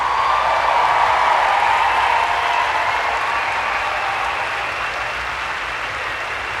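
Steady, dense applause from a large audience at an activist gathering, a continuous wash of clapping that holds loud and then eases slightly toward the end, with no talking over it.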